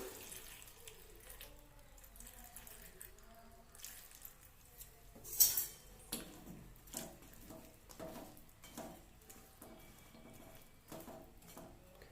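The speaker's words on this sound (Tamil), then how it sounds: "இப்போ இது வேகிறதுக்கு ஒரு கொஞ்சமாக தண்ணி ஊற்றிடலாம்." Water runs and splashes into a cooking pot of bottle gourd curry, a steady trickle broken by bursts of clattering and sloshing, close by with no talking.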